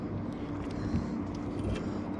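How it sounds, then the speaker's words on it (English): Boats passing by on a lake where bass are being fished, heard as a continuous low engine drone at moderate distance that stays steady and fairly faint. "We got some boats coming by."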